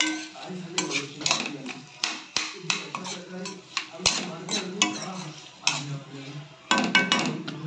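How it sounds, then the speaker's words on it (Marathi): Diced potato being sautéed and stirred in a pan, with repeated scraping and clinking of a utensil against the metal over a soft sizzle, close up and steady throughout. "हे बघा थोडासा परतून घेतोय आपण।"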